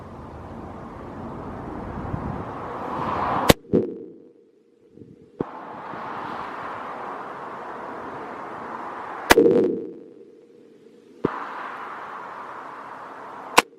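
Smith & Wesson M&P 10 rifle shots fired at a target during open-sight practice outdoors: a few sharp, loud cracks spaced seconds apart, with quiet gaps and a steady background rumble between them.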